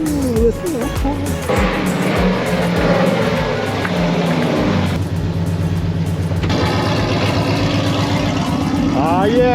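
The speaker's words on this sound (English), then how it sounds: "Ooh, listen to that car." A Nissan S chassis drift car engine roars loud and close at a drift school, revving up and down in sustained waves with shifting pitch, continuous throughout and dominating the scene.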